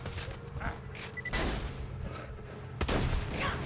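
Shotgun blasts in the game Borderlands 2, two or three heavy booming shots amid a clattering firefight, fairly close and punchy.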